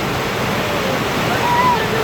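A waterfall at Amboli pouring down over stone steps, a loud, steady, close roar of rushing water with no breaks.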